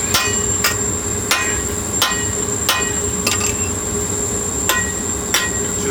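A hand hammer strikes a hot drift to punch the eye of a hammer head, with no striker helping; about nine sharp, ringing metallic blows land at a steady, unhurried pace, close and loud, with no talk.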